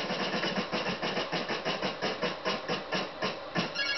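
Prize wheel spinning in the Wheel of Fortune NES game, a steady buzzy electronic clatter with rapid regular ticks pulsing throughout, loud and alone with no talk.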